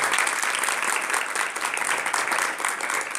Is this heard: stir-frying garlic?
no